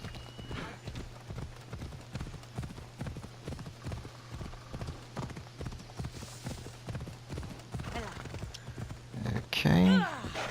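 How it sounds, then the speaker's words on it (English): Horse hooves gallop in Assassin's Creed Odyssey with a steady, rhythmic clip-clop close by, a neigh rising near the end, and a player talking over the ride. "Ride, Phobos!"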